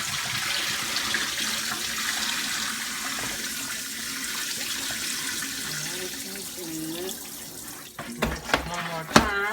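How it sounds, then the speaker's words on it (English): A kitchen tap runs steadily into a sink while raw chicken is rinsed under it, a continuous hissing splash that shifts and sloshes toward the end as the meat is handled. "Rinse it about 2 or 3 times. Make sure you get all that vinegar off of it."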